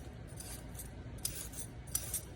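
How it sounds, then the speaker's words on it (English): A vegetable peeler scrapes down a trimmed carrot in a home kitchen during carrot cake prep, giving a few short, soft rasping strokes over quiet room tone, with no talk. "now I'm going to use my peeler and I'm going to scrape it to peel it."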